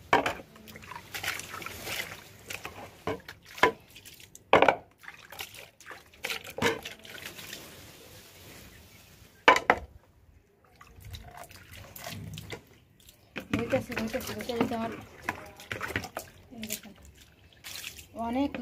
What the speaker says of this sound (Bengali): এই এতগুলো প্লেট বাটি এখন ধুতে হবে। আপনারা থাকেন প্লেট বাটিগুলো ধুয়ে নেই